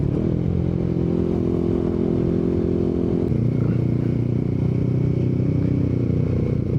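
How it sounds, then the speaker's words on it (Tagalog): Motorcycles ride along a road on a weekend group breakfast ride, a loud steady engine drone with a pitch drop about halfway through, heard from close by on the road, no talking. "Dami ng motor oh."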